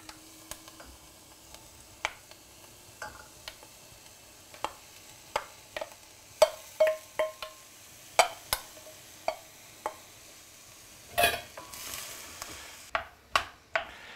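Tomatoes hit a pan already holding sweated onions and peppers for a pork and veal meatball sauce, giving soft sizzling with a series of sharp clicks, taps and stirring scrapes, fairly quiet and close.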